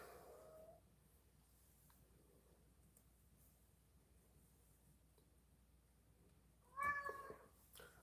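A male house cat meows loudly and insistently near the end, a short burst of cries after a long stretch of quiet room tone.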